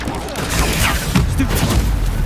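Combat in Hogwarts Legacy as a Stupefy spell is cast inside a tomb, with loud booming, blasting impacts and swishes overlapping in a busy fight, a voice speaking over them.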